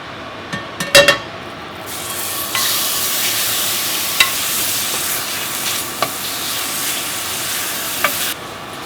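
Ground meat fries in a pan with oil, giving a steady close sizzle, preceded by a few clinks and a clatter as it goes in, with occasional utensil taps on the pan throughout.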